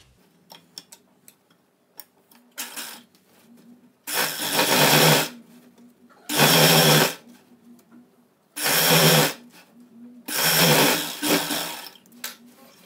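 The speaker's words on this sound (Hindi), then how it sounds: "पहले इस साइड को स्टिच करेंगे, फिर इस साइड सिलाई लगाएंगे।" A sewing machine stitches a lehenga made from an old saree, running in four loud, steady whirring bursts of about a second each. Fabric handling and faint clicks fill the short pauses between bursts, and nobody speaks.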